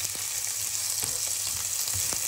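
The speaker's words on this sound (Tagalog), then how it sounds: "ginigisa ko na yung pork leftover natin" Leftover pork sizzles and fries in a hot pan, a steady dense crackle with a few soft clicks of stirring, fairly quiet and close, with no voices.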